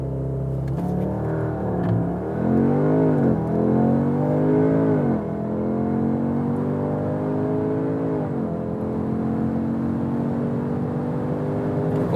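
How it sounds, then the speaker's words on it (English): A 2021 Audi S3 with all-wheel drive accelerating hard to 160 km/h, engine tone climbing through several gears with brief dips at each shift, a loud steady interior drone throughout. "That's 160 kilometers an hour. Really nice acceleration due to this all-wheel drive"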